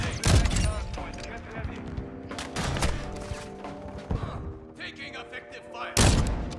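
Gunfire in the Call of Duty Modern Warfare II video game, with loud bursts of shots and heavy thumps in quick clusters, a big blast near the start and another near the end, over a busy game soundscape with voices mixed in.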